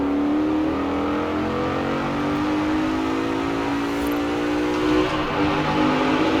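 A Mercedes-AMG GT in Forza Horizon 4 accelerates hard through a tunnel, its engine a continuous, loud, rising roar with reverberant tone and a slowly climbing pitch, no speech.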